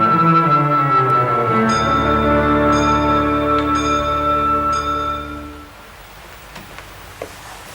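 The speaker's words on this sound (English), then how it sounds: "Joseph Flaxton bought an old chiming grandfather clock" An old chiming grandfather clock rings out loud, sustained, resonant tones that overlap for about five seconds and then fade into a quiet room.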